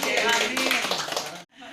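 Applause in a gathering, dense clapping blended with raised voices, loud and steady before cutting off briefly and resuming more softly at the end.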